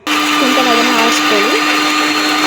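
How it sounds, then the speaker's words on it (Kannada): An electric mixer grinder jar whirs as it grinds roasted rasam powder spices, a loud, continuous high-pitched motor drone throughout, with a voice speaking over it. "ಅದನ್ನು ಒಂದು ಮಿಕ್ಸಿ ಜಾರಿಗೆ ಹಾಕ್ಕೊಬೇಕು"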